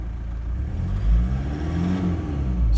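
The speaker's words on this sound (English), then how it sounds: "It's got a bit of a knocky rattle at idle as well." A diesel engine runs at a rough, uneven idle with a knocky rattle, a close, loud low rumble that swells and dips irregularly over a couple of seconds.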